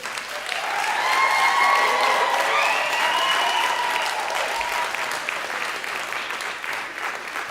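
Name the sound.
graduates' round of applause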